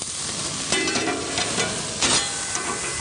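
Meat sears on a grill after being flipped, giving a close, steady sizzle with a couple of louder crackling bursts.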